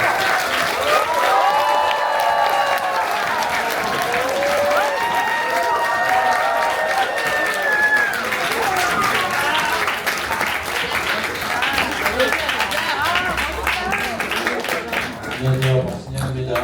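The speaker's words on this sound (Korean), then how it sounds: "박수를 통해서 한번 마치도록 하겠습니다" An audience applauds at the close of an artist talk, sustained loud clapping from a crowded room that carries on for a long stretch before thinning at the end.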